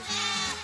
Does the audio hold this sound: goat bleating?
yes